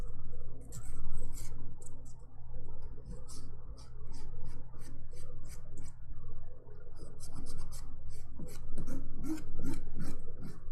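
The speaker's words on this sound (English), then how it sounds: "ASMR nail filing." A nail file rasps across fingernails during a dip powder manicure, making close, steady back-and-forth scratching strokes in short bursts with brief pauses, and no talk.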